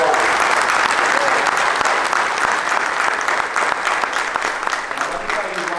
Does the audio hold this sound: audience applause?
yes